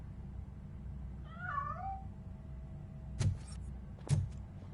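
A cat meows once in the video game RoboCop: Rogue City, a wavering mid-pitched cry over a low ambient hum, followed by two sharp thuds.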